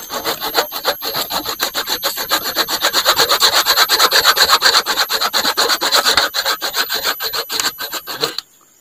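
Hand saw cutting through wood in steady rapid back-and-forth strokes while a camping shelter is set up in heavy rain, loud and close, stopping abruptly at the end.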